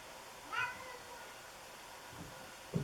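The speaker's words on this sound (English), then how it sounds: "This session, it sounds like we're going to be joined by my yoga cat, Sully." A single short cat meow sounds faintly during a quiet chair yoga session, with a soft thump near the end.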